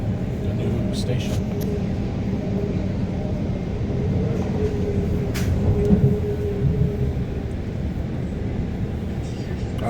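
REM light rail train pulling into Côte-de-Liesse station, a steady rumble with a faint squealing tone, heard from the platform amid a few clicks and knocks.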